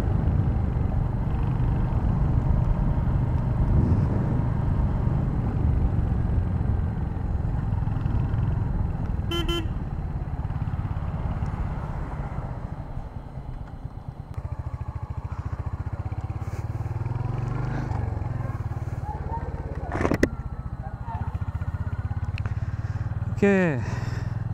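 A Royal Enfield Hunter 350 motorcycle rides along with a steady engine drone and road and wind roar, with brief horn toots from traffic near the end.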